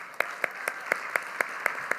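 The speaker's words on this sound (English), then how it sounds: "That deserves an applause." An audience at a Philadelphia school district State of Schools event applauds steadily, dense clapping with a few sharper claps standing out at a regular pace across two seconds, with no one speaking over it.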